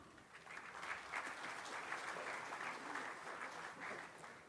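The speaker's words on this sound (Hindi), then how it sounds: "एक बार जोरदार तालियां हो जाए" A crowd at a government ceremony for handing out appointment letters claps for the newly selected deputy director: dense, even applause, fairly faint and distant, lasting throughout.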